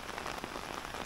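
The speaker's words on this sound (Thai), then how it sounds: "เงียบนะมีแต่ฝนเนาะ" Rain comes down on a tent at a campsite in Suan Phueng, Ratchaburi, a dense, even patter of drops heard close up and alone, with no voices.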